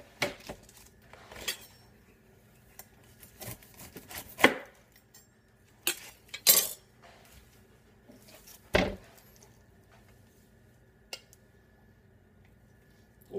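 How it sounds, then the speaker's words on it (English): Fresh pineapple cut with a Pro Freshionals corer slicer tool: sharp, sparse crunching and scraping bursts at irregular intervals, close by against a quiet kitchen background. "how easy it is to cut a pineapple with this simple tool called Pro Freshionals"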